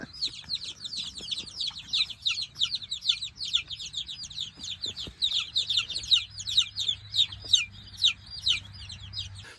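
Soft, high-pitched cheeping and clucking from young chickens repeats continuously at close range, with a faint low hum underneath and no talking.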